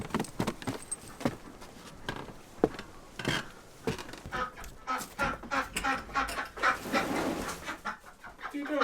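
Scattered quacks and clucking calls from nearby ducks, irregular and overlapping, with rustling and jangling noises throughout and no clear speech.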